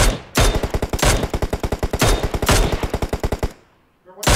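Rapid automatic gunfire in the PUBG Mobile battle royale game, several loud close bursts of evenly spaced shots broken by brief gaps, ending in a short lull.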